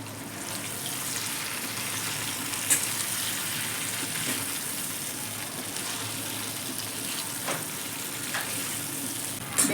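Steamed stuffed okra (bhindi) frying in a little oil in a pan, a steady broad sizzle running the whole time with a few brief clinks and stirring scrapes, close and moderately loud.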